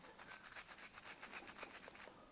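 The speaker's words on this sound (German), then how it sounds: "Unser Gehäuse können wir ebenfalls mit Lauge reinigen." A brush scrubs grease off the housing of a vintage Pfaff 30 sewing machine with lye, in quick rhythmic strokes, close but fairly soft, about a dozen passes before stopping.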